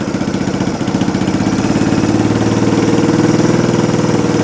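A rebuilt engine on a three-wheeler golf cart idles steadily and close up, its fast, even chugging pulse holding at a constant level throughout with no voices.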